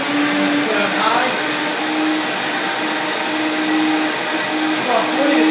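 A Vitamix blender runs on high while blending a banana smoothie, giving a loud, steady motor whine with a constant droning pitch that barely wavers from start to finish.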